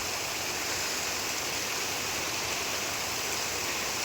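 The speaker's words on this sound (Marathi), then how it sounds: "मस्त पाऊस लागतो." Steady rain pouring down in a broad, even hiss that stays unchanged throughout, with no voices.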